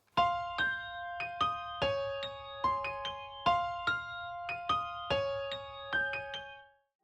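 A dark trap melody of power chords with a bright top line plays alone, quick plucked notes in a steady, fast rhythm, fairly quiet and high in register.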